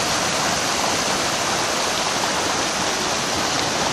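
Seawater surging into the mouth of the Rivière des Galets on Réunion, pushing shingle along: a steady, loud, broadband rush of water close by, continuous and unbroken with no voices.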